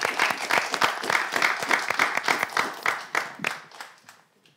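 An audience claps in a French talk show, a fast, dense patter of many hands at a steady level that thins out and fades away toward the end.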